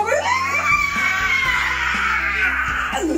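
A drawn-out scream of fright, held at high pitch for about three seconds and rising then falling at the ends, loud and close, with a heavy low droning background underneath.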